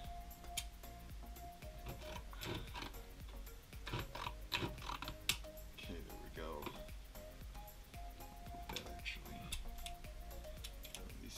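Scissors snipping and crinkling through an Amazon shipping package, a string of small irregular clicks and rustles close by, with a person talking over much of the cutting.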